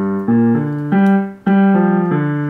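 Left-hand piano part of a song from La La Land, a few low notes struck one after another and left to ring, close and clear with no voices.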